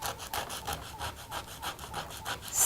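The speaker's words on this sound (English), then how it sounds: "sand it on some very rough sandpaper. You see I'm kind of turning it as I sand it to keep that pointy shape" A pencil point is sanded on very rough sandpaper while being turned, giving quick, regular rasping strokes, about a dozen in a row, close and fairly faint with no talking.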